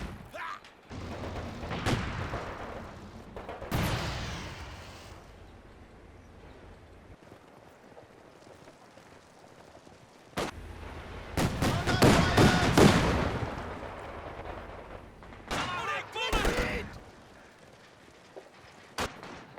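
Distant skirmish in Company of Heroes 2, scattered bursts of gunfire and dull booms separated by quiet stretches, fairly faint, with a commentator talking between them.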